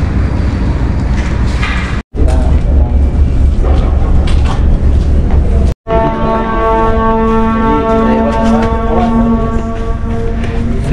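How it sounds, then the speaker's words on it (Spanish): Ship horns from boats in a harbour at Veracruz sound over steady wind and ambient noise, with a long sustained horn blast holding through the latter half, under two brief cuts in the sound. "Escucha el ruido de los barcos."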